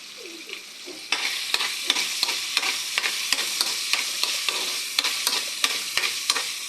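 Onions sizzle in hot oil in a pan for menudo. A spoon scrapes and stirs them with regular sharp clinks against the pan over the steady, close hiss of frying.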